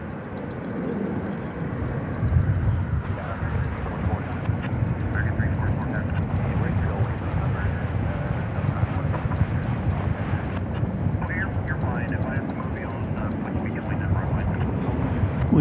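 An aircraft in America West retro livery at DFW Airport at night, a steady rumbling engine drone throughout, with a person talking over it.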